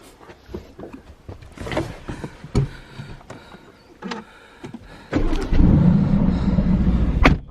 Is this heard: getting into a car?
yes